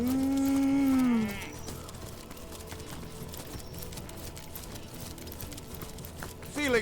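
Cattle lowing in the video game Divinity: Original Sin, one long loud moo up close at the start, then quiet game ambience with faint clip-clop, and a short second moo at the very end.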